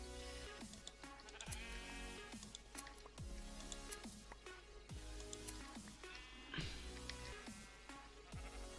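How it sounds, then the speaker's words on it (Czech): Minecraft sheep bleat several times in short repeated calls over a busy game soundscape, all very quiet overall. "Tam jsou další ovce, jo."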